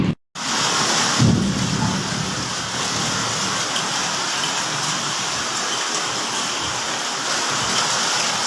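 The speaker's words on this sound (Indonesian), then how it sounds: "Hujan batu." Hailstorm over Chukai, Malaysia, with heavy rain and thunder: a dense, steady roar of rain and hail pounding surfaces, low thunder rumbling beneath, continuous and loud after a brief silent start.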